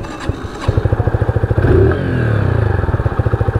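A 2020s AJS Cadwell 125cc motorcycle engine runs close by with a rapid, even mechanical pulse, briefly revving up before settling back into a steady, lively idle-like beat.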